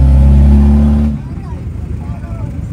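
A car engine revs hard through a loud exhaust, a deep droning roar close by that cuts off abruptly after about a second, leaving quieter idling rumble and faint background voices.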